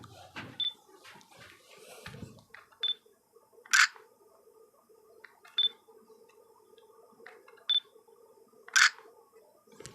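A camera shutter firing repeatedly at a 1/100 shutter speed, with sharp close clicks spaced a second or two apart, some paired with faint electronic beeps, over a quiet room hum.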